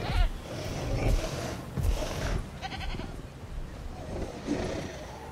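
Goats bleat in the Jurassic World Evolution park game, a few moderate calls rising over a busy, low ambient bed of rumble and scattered noises, with no voices.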